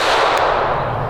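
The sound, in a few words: unsuppressed supersonic rifle shot into a berm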